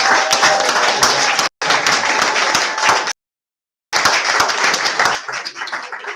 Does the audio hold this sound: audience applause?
yes